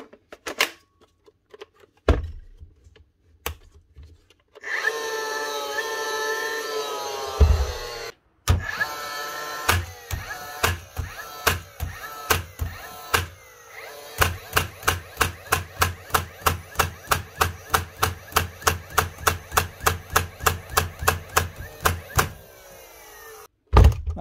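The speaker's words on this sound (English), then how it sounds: "That's how you replace the driver assembly or pin on the Dewalt DCN660 nail gun" A repaired Dewalt DCN660 nail gun is test-fired in a workshop after its driver assembly is replaced, first a few sharp single shots, then a long, rapid, even series of loud snapping firings.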